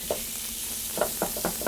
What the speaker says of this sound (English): I brought the heat back up under my prosciutto and onions.